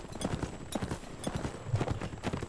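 Cavalry horses' hooves drum in a video game battle, a dense, continuous clatter of many hoofbeats close by with no speech over them.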